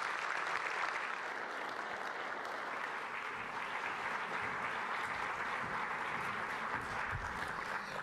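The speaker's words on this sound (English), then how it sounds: "Let's give Tim Rennick another round of applause." Sustained audience applause at a university data and analytics conference session, a dense, even wash of clapping from many hands that holds steady throughout without speech.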